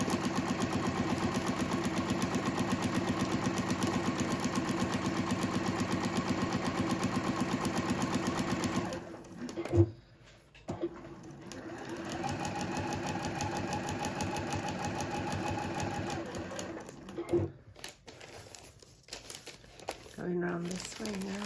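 A domestic sewing machine stitching through quilting fabric, its steady mechanical whir running continuously, then pausing with rustles and handling noises before a quieter stitching run resumes.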